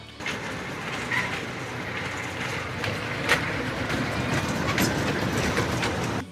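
A children's park train ride at Bangabandhu Safari Park in Gazipur rolls past close by, a continuous rattling clatter of wheels and cars with a few brief squeaks, and no voices.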